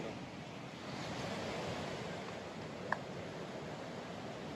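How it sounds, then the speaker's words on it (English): Ocean waves wash onto a beach in Portland, a steady, soft broadband rush mixed with light wind, with one brief faint click partway through and no voices. "Right now we're up on the beach, somewhere in Portland."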